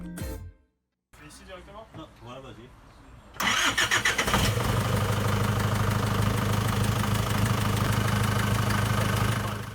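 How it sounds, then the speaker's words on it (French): An Opel Frontera, idle for five years, cranks and fires up: a voice talks over the start, then after a brief silence and some cranking the engine catches at once and settles into a loud, steady idle. "Le moteur ronronne après 5 ans de silence."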